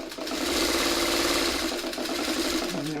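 A sewing machine runs a quilt seam, a fast steady mechanical whirr with rapid rhythmic needle ticking, close and even throughout, with a slight drop in pitch near the end and no talking.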